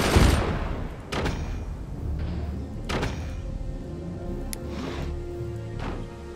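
Weapons fire in the battle game Forts, with several sharp booming shots and thuds spaced a second or two apart, each decaying into a rumbling background.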